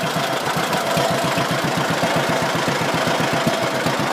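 John Deere Model B tractor engine idling after a choked start, a loud, close, steady low two-cylinder putt-putt beat throughout with no voices.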